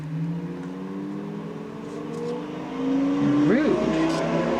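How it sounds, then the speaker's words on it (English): Outside, a car engine holds a steady drone and then revs hard near the end, the pitch climbing and dropping in a quick sweep, fairly loud and continuous. "somebody to be revving their engine outside"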